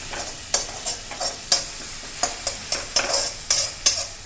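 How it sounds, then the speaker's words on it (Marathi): Green chillies sauté in oil with cumin, a close sizzle punctuated by a rhythmic series of sharp spatula scrapes and taps against the pan, with no one speaking. "आता ती छान आपल्याला तेलावर परतू द्यायची आहे"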